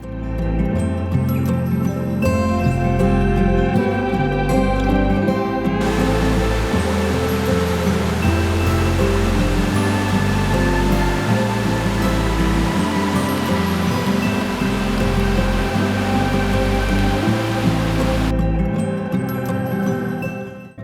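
Heavy rushing water at the Canyon Sainte-Anne waterfall in Quebec, swollen with spring rain, roars as a steady broadband wash, loud and continuous, with music playing over it throughout.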